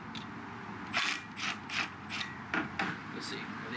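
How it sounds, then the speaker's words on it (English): Wrench working a 14mm bolt on a W58 manual transmission from a Cressida, quiet close metallic clicks and ratcheting taps in an irregular series of short bursts over a low room hum. "Put a wrench on there."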